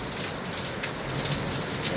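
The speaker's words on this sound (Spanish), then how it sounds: "está lloviendo súper" Heavy rain pouring down in a steady, dense roar of drops hitting surfaces, loud and continuous with no pauses and no voices.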